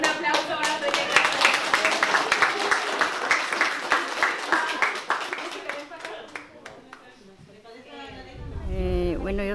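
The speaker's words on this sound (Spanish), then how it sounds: "Un aplauso para los dueños de casa" Rhythmic clapping at a handicraft gathering honours the hosts, sharp individual claps in a steady beat over people talking, fading after several seconds as voices and a low hum take over.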